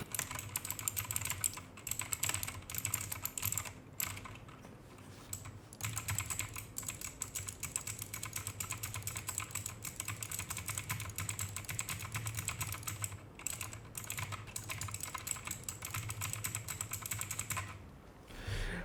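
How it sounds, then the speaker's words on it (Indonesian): Continuous clacky typing on a mechanical keyboard fitted with Otemu Blue switches, dense rapid keystrokes running nearly the whole time with a few brief pauses, close and alone. "gue akan mengetesnya menggunakan keyboard yang menggunakan Otemu Blue Switch yang terkenal itu sangat bising"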